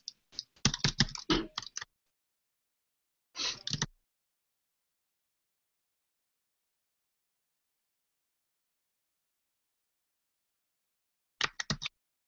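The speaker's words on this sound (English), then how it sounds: "I'm typing and talking at the same time" Someone types on a computer keyboard in short, quiet bursts of rapid clicks, with long silent gaps between them.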